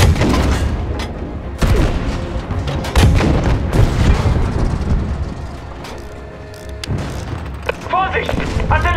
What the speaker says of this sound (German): Vorsicht! Artillerie! Die haben uns markiert!